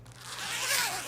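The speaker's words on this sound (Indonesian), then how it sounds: "menggunakan resleting seperti ini. Nah, ini seperti ini untuk resletingnya." A zipper on a work vest made by a garment maker is pulled in one smooth, close, rasping stroke, heard alone without talk.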